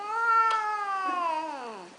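A cat lets out a single long, drawn-out meow that is close and loud, slowly falling in pitch toward the end.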